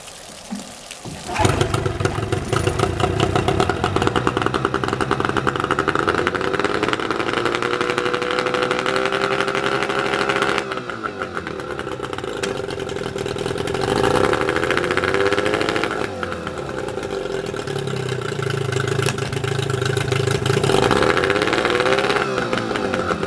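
A 2-stroke 15 HP Yamaha outboard motor on a 14-foot boat runs steadily after warming up with the choke off, a loud continuous buzzing drone with slight pitch shifts as the throttle changes.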